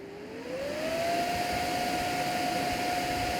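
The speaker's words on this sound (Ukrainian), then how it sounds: "вбудована ізольоване активне охолодження гуде як пилосос, або пилосмок, або порохотяг" Cooling fan of an EcoFlow River 2 Pro portable power station whirring while it charges, a steady close hum with a tone that rises as the fan spins up in the first second, then holds level and loud like a vacuum cleaner.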